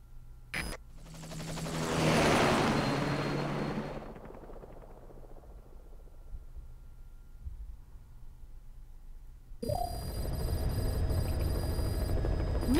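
Helicopter in the video game Metal Gear Solid V: The Phantom Pain, heard as a swelling rotor roar that peaks and fades over a few seconds, then gives way to a steady, heavy thrum of the chopper running up close.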